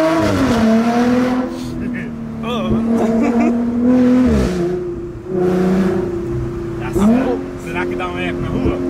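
An Audi car accelerates hard close by, the engine note climbing in repeated surges and dropping between gear changes, loud and near, with people talking over it.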